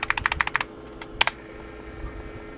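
A worn, dumpster-salvaged computer keyboard clacks under a rapid run of about six keystrokes, then a pause and a couple of harder taps, all close over a low steady hum.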